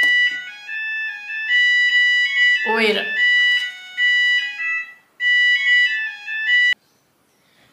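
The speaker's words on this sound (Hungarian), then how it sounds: "Újra cseng a telefon" A mobile phone ringtone plays a repeating melodic electronic phrase in loud, evenly spaced bursts. A voice briefly speaks over one burst, and the ringing cuts off near the end.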